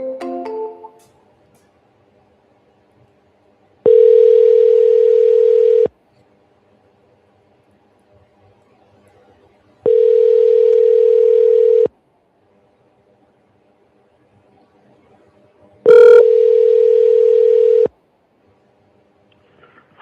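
Ringback on an outgoing telephone call: three steady two-second tones, evenly spaced with about four seconds of silence between them, loud and alone on the line.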